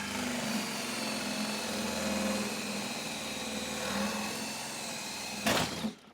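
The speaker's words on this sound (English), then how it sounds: "I'm going to drill a hole right here in each corner" A power drill runs steadily and close up while boring holes into the corner of a Club Car DS golf cart body, its whine holding level before a brief louder burst and a stop.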